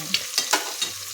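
A ladle stirs garlic frying in a pan for a Nag Panchami festival dish: a few scraping strokes over a low sizzle, close and clear, with no talking.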